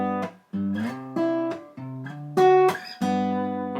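Four chords of a simple I-IV-V-I progression sound one after another, each sustained briefly before the next, ending on a held final chord.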